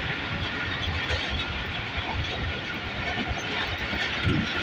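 A train rumbles and rattles steadily on the rails on a fast journey from Jahanian to Khanewal, a continuous loud broadband roar with no pauses or voices.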